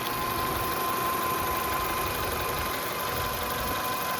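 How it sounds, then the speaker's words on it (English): Steady mechanical hum of a four-cylinder, 16-valve Honda Accord engine with about 380,000 miles, idling smoothly, heard close with a constant whine on top and no speech. "Four-cylinder, 16-valve Honda engine."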